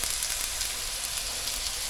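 A ribeye steak sizzles in a cast iron skillet with beef Wagyu tallow, giving a steady, hissing crackle that holds at an even level throughout with no talking.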